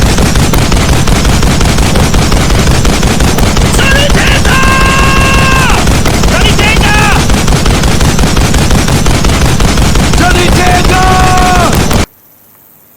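A .50 caliber machine gun fires at targets on a range, loud sustained rapid bursts running nearly unbroken and close by, with faint tonal ringing between bursts, cutting off abruptly at the end.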